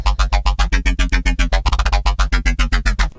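A punchy, dry synth bass riff made in Serum plays alone in a steady, rapid rhythm of short repeated notes, each cut off cleanly with no delay echo trailing behind.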